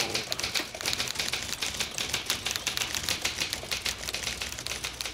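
Old desk typewriter keys clacking in a fast, steady stream of sharp mechanical strikes, close and moderately loud, with no voices over it.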